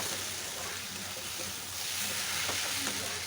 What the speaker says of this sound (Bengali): একটু ভেজে নিচ্ছি সুন্দর করে।